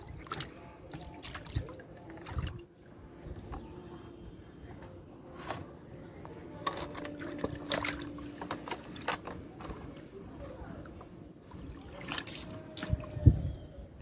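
Water splashes and drips in a bucket during a 15-month-old toddler's bath, with irregular close splashes and trickles at moderate level throughout.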